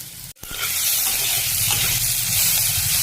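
Onion and two dried red chillies frying in hot oil as panch phoron five-spice goes in, a loud close continuous sizzle that briefly drops out, then swells into a steady hiss.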